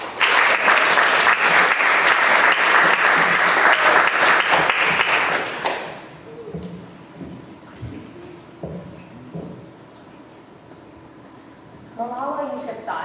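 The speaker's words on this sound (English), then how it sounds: "give a huge round of applause to our final speaker" A TEDx youth event audience at Granite Bay High School gives loud, dense applause for the final speaker for about six seconds, then it fades, leaving quiet room sound with a few scattered noises and a voice starting near the end.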